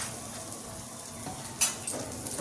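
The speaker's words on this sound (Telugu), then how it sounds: "నేను బటర్ వేస్తున్నాను. ఇలా తిప్పుకుంటూ కాల్చుకున్నాం." Aloo paratha frying in butter on a pan, a soft, steady sizzle close by with a brief scrape or clink of a utensil partway through and a few light stirring sounds.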